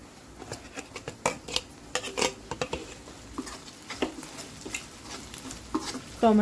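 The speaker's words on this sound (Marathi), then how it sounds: "कांदा छान असं परतून घ्या कांदा परतून झाला की आपण बारीक चिरलेले टोमॅटो टाकणार आहे" Onion sautéing in oil in a pan, a soft background sizzle overlaid by rapid irregular scraping and clicking of a spatula stirring, close and busy throughout, without voices.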